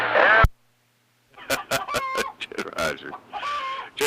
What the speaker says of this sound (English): That's an egg-laying chicken over there.